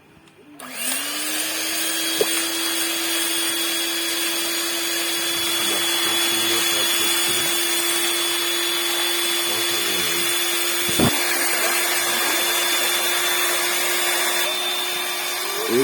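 A Bajaj electric hand blender runs steadily for about fifteen seconds, a loud continuous motor whine that starts abruptly and holds an even pitch, with a brief clunk near the end and no talking.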